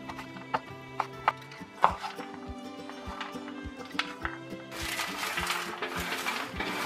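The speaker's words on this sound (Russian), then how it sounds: "Режу вишню." A knife chops cherries on a board in a steady run of crisp, evenly spaced cuts, with a louder rustling noise building toward the end.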